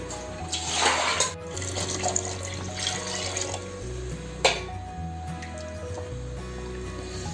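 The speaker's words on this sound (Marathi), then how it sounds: "जेवढी पातळ हवी त्यानुसार आपण त्यामध्ये पाणी घालायचं आहे" Water poured into misal curry cooking in a pot, a close splashing, gurgling pour that swells and eases over several seconds, with faint steady background hum.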